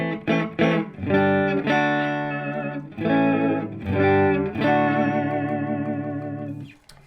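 An electric guitar, a Mexican Strat played through a Behringer distortion pedal, rings out a sequence of loud, sustained distorted chords, each struck and left to ring before fading at the end.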